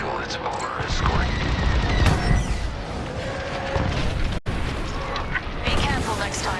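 Starship weapons fire on a rebel corvette during a space battle in a video game: a loud barrage of rapid blasts, booms and zaps, with voices talking over the combat.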